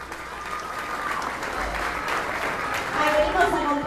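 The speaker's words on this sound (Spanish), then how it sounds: "aplauso" A crowd at a zouk and salsa dance party celebrating a 25th anniversary claps steadily and fills the whole stretch, with voices mixed into the clapping.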